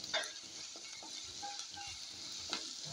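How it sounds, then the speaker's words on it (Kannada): Vegetables frying in oil in a pan for homemade restaurant-style egg fried rice, a steady broadband sizzle with occasional soft stirring clinks and scrapes, close and moderately loud, no voices. "ತರಕಾರಿ ಎಲ್ಲ ನಮ್ಗೆ ಆದಷ್ಟು ಎಣ್ಣೆನಲ್ಲೇ ಫ್ರೈ ಆಗಬೇಕು."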